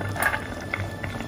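Chicken porridge boils in a pot on the stove, giving a steady, close stream of bubbling and popping with no voices over it.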